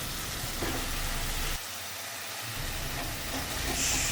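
Ground spices and chopped tomato fry with a splash of water in a pan, giving a continuous, fairly loud sizzle and hiss that dips briefly, then carries on steadily without voices.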